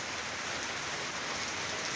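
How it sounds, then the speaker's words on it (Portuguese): Light rain falls steadily outdoors, a dense, even hiss of drops on surfaces that holds unbroken and alone. "Nós estamos tendo uma chuvinha aqui, ó. Graças a Deus, né? Tá chovendo."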